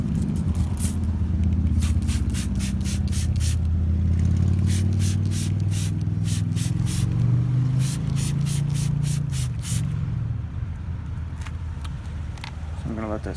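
A normal garden hose sprays water onto a dirty car wheel coated in Patterson wheel cleaner, a steady broadband hiss with pulsing bursts that runs the whole time, close and loud, with a voice talking over it.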